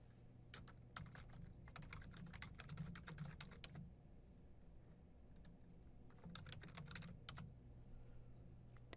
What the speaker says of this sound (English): Now that I've typed in both my terms